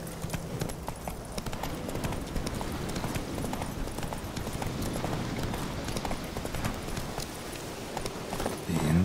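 Horse hooves in the video game The Witcher 3: Wild Hunt, a steady rapid clip-clop of galloping that runs continuously and fairly close throughout.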